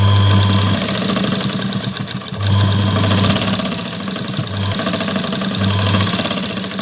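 A sewing machine stitching a blouse runs in a loud, steady mechanical whir with a rhythmic needle clatter, pausing briefly and then running again in bursts.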